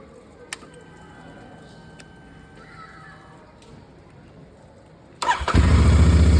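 A Royal Enfield Bear 650 motorcycle engine starts up after a quiet stretch, a starter burst catching into a loud, steady idle close by near the end.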